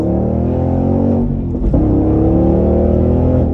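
An Audi RS3 accelerates hard in second gear, its engine note climbing steadily and loud and close, then a brief dip around a gear change before it pulls again with a strong, sustained roar.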